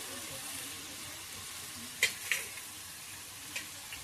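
Potatoes sizzle and fry in a hot pan, a steady soft hiss throughout with a couple of brief clinks and taps of a utensil stirring, quiet and close.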